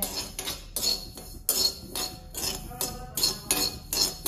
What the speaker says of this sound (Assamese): তিল মটৰ বনাব যে তিলখিনি খুন্দি ল'ব লাগে